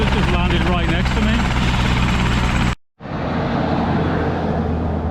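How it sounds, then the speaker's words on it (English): A helicopter sits close by after landing, its rotors throbbing loudly and steadily. Someone talks over it, the sound cuts out briefly, and then a similar steady rotor roar resumes. "The helicopter's just landed right next to me."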